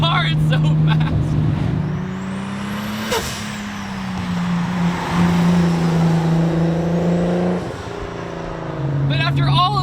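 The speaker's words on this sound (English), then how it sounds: "This car is so fast." A Nissan 240SX with a JZ engine revs loudly and climbs through gear changes, with excited shouting and voices over the roaring motor.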